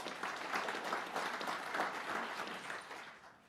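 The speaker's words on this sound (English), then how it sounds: "let's give them a round of applause" Luncheon guests at a campaign finance reform event give the hosts a round of applause, a thick, even patter of clapping across the room that fades away at the close.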